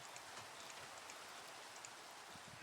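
Steady rain in Minecraft falls as a soft, even hiss of drops pattering on surfaces, continuous and faint, with no voices over it.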